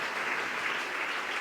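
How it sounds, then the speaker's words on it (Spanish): Church congregation applauding during a Spanish-language sermon, a steady, dense wash of clapping filling the short span at even loudness with no voices on top. "dele un aplauso en esta mañana"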